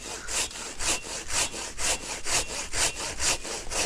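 A hand saw cutting through a fallen cedar trunk on an overgrown abandoned trail, steady back-and-forth rasping strokes about three per second, close and clear with no talking.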